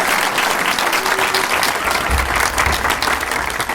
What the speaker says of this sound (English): let me know by a round of applause